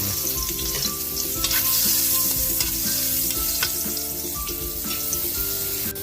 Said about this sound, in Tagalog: Magigisa na po tayo para sa ating miswang karpa.